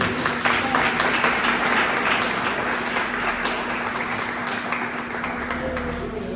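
A church congregation applauds together, a steady wash of many hands clapping that holds evenly for several seconds with a low hum underneath.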